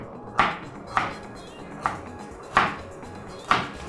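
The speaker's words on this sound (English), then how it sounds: "I'll quickly cut my vegetables" Knife chopping a carrot and spring onion on a board, five sharp, separate strikes spaced unevenly, close and clear with quiet room tone between.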